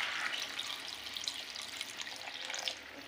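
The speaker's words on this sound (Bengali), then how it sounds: "এবার আমি এতে পরিমাণ মতো জল দিয়ে দেবো" Water is poured into a cooking pot in a quiet, steady splashing stream lasting about three seconds, with no voices.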